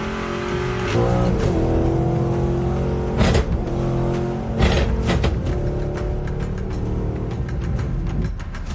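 A 707-horsepower supercharged Dodge Challenger Hellcat, once left rotting in an impound lot, revs hard and loud and close up, with repeated throttle blips, a rising supercharger whine and sharp bursts of engine roar.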